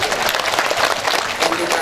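A crowd at a religious talk by a preacher applauds in a short, dense burst of clapping that stays loud and close throughout, with voices mixed in.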